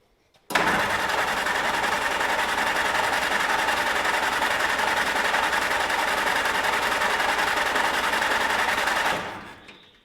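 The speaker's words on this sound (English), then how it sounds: "Crank it over and see if any fuel squirts out." A Flatfender Jeep engine cranks over steadily for about nine seconds, a loud, rapid mechanical chugging close by that cuts off abruptly.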